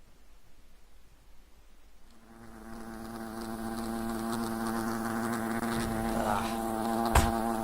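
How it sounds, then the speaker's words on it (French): Bees buzz in the video game Fables: The Lost Chapter, starting after a quiet opening and swelling into a steady, loud, dense drone that holds to the end, with a brief sharp hit near the close. "c'est pas des petites abeilles qui vont vous faire peur"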